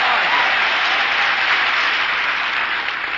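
Studio audience applause at a radio comedy broadcast for Marines at an air station in Mojave, California, a steady dense roar of clapping sustained without pause.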